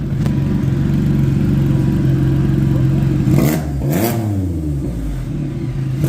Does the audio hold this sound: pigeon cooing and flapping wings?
no